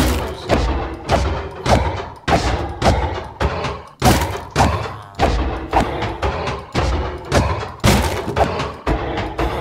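Bombs blow up in the Minecraft video game, a rapid chain of about a dozen loud, heavy booms and thuds spaced under a second apart, each with a bright crack and a short decay, with no voices.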